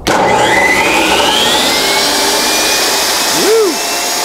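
A RIDGID 10-inch compact table saw spins up gradually on its soft start, a steady loud motor whine climbing in pitch and holding, with a brief rising-and-falling tone near the end.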